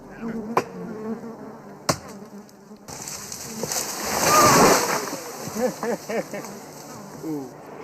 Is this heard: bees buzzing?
yes